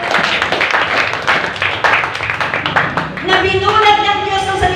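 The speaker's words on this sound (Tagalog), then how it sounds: "Ang lahat nga po na nakikinig ay pumalakpak sa Diyos." A church congregation claps together during a sermon, a few seconds of dense applause that gives way to a sustained voice or music.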